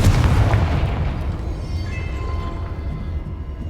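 A Confringo blasting spell explodes in the Hogwarts Legacy video game, a loud booming blast at the start that settles into a sustained rumbling decay, with no talk over it.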